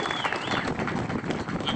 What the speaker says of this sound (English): let's give them a round of applause for today